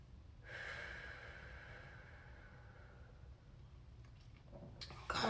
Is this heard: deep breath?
yes